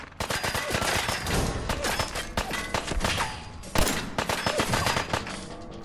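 Rapid bursts of gunfire from the Fallout 4 video game, with sharp repeated shots and thuds crowding together loudly over about six seconds, no talking.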